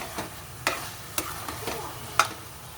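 Carrot halwa with sugar and almonds stirred in a pan, a spoon scraping and tapping in several separate strokes over a soft, low sizzle; close and quiet, with no talking.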